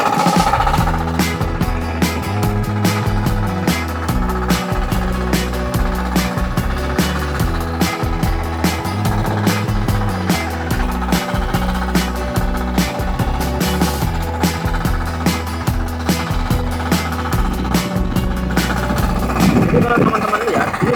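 A mini four-wheel tractor, model FTI2010DE, works a shallow rice field. Its engine runs loud and close with a steady, knocking diesel throb that holds nearly unchanged throughout.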